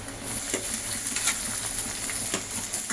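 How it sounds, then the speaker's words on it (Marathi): Onion cooking in a kadhai with garlic and curry leaves, a dense continuous sizzle up close with a few light stirring scrapes, no speech. "आता हा कांदा आपण चांगला शिजवून घेऊ."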